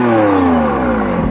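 A McLaren Artura engine revs through its optional sports exhaust, a loud close-up roar that falls in pitch as the revs drop, with no talking.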